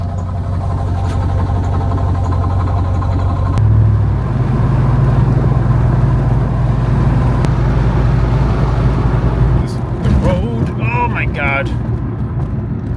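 A C5 Corvette engine rumbles steadily while the car is driven on the road, a loud, continuous low drone with a shift in pitch partway through and voices talking over it near the end.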